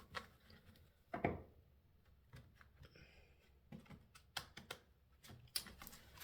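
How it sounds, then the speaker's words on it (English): Quiet, scattered bursts of papery riffling and clicking as a deck of cards is shuffled, uneven and stop-start, with no voices. "Let's give another shuffle"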